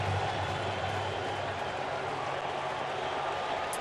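A sellout baseball stadium crowd at a Chicago Cubs versus St. Louis Cardinals game, a dense, continuous roar of many voices and cheering that stays loud and even from start to finish.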